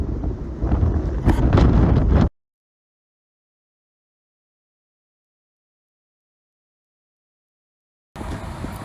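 Strong wind gusts roar and buffet the microphone aboard a sailboat cruising off Cuba's northern coast, loud and rough for about two seconds, then cut out to silence before the gusting returns.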